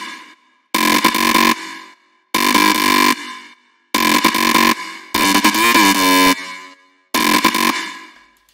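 Sidechained electronic synth stabs from an FL Studio track, five loud, buzzing, horn-like chord bursts that pump in and out, each separated by a short silence.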